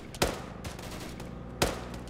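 ArmA 3 machine gun fire: two sharp, loud bursts about a second and a half apart, each with a booming low tail, over a steady rumbling battlefield background.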